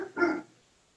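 A single sharp bark from a large young dog outdoors at night, fairly close and loud, followed by quiet.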